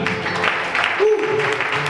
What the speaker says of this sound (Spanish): Un aplauso para las hermanas